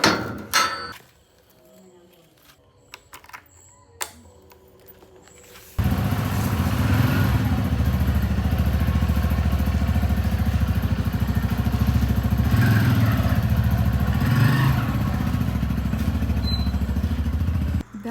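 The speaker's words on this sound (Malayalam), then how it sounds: "നമ്മൾ ഈ ബൈക്ക് എടുത്തിട്ടാണ് പോകാൻ പോകുന്നത്." Scattered handling clatter in a quiet room gives way to a motorbike engine that starts abruptly and then idles steadily, close and loud, with an even throbbing drone for the remaining twelve seconds.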